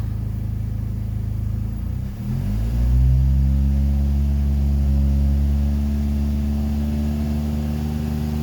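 A Ford Fiesta ST engine idles steadily after carbon cleaning, a low smooth rumble after a brief rev near the start, running alone without talk.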